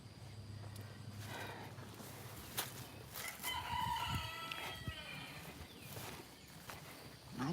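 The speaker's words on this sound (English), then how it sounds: "My chickens is wanting to get out," Backyard chickens in Georgia cluck and crow nearby, short calls with one drawn-out crow in the middle, over faint rustling and footsteps.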